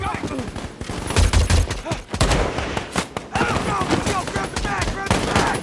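Gunfire fills a war movie scene involving a sniper battle between American marines and an Iraqi sniper with a Romanian PSL rifle, loud repeated shots and bursts mixed with dense battle noise and voices.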